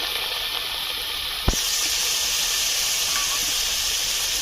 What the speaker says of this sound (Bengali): শুটকি মাছটা দিয়ে দিচ্ছি কড়াতে।